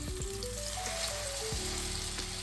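Filipino eggplant omelette (tortang talong) sizzling steadily in a hot pan over medium heat, a loud continuous fry with no talking.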